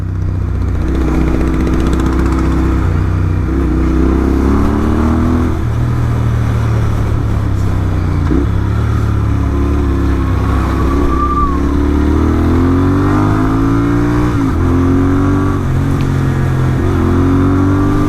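A Royal Enfield Interceptor 650 motorcycle fitted with an S&S camshaft accelerates hard through the gears, its engine note climbing steadily, dropping at each shift, then climbing again, loud and continuous throughout.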